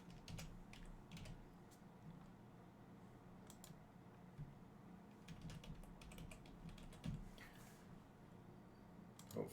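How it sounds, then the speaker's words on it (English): Keys clatter on a computer keyboard in quick irregular bursts, close and quiet against a faint room hum, with no voices over it. "typing in"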